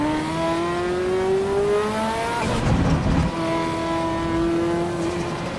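Race car engine in the Assetto Corsa Evo driving game, an old-school manual car, revs up in a loud rising whine, breaks into a harsh rasp at a shift, then climbs again, close and alone.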